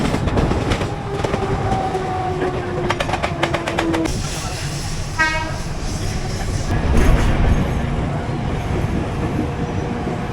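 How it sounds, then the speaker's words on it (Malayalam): A train pulls away from a station in Mumbai, with loud rumbling wheels and rhythmic clicking over rail joints, a brief whistle-like tone and ambient platform noise around it. "അങ്ങനെ നമ്മളെ കൊണ്ടുവന്ന ട്രെയിൻ ചാട്ട പോകും."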